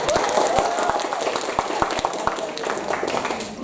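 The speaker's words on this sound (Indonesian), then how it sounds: "Tepuk tangan untuk kita semua" Applause from the audience at a Yudisium graduation ceremony for the FKIP undergraduate program at Universitas Madura, a dense and steady crowd clapping that fills the hall, with some voices mixed in.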